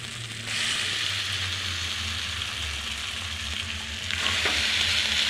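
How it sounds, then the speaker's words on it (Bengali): Cabbage stir-fried in a pan with dried red chillies, green chillies and ginger gives a loud, continuous sizzle with scraping stirring noises close by, and no talking. "এবার ভালো করে কষবো। বাঁধাকপিটা দিয়ে দেবো।"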